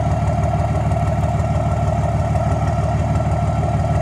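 A diesel engine idles with a steady low rumble after a common rail injector rebuild, its rhythm faintly uneven from a slight misfire, close and continuous with no talk.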